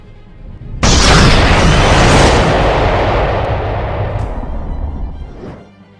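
A huge cinematic Big Bang explosion, with a sudden deep boom that fills the sound at once, then a long rumbling roar that slowly fades over several seconds.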